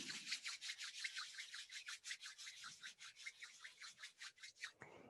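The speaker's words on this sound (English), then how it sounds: "Lift the feet and rub the soles of the feet together" Palms and then the soles of the feet rubbed briskly together during a yoga practice, a rapid run of about twenty rhythmic, raspy swishes close by, steady and unbroken for several seconds with no talking.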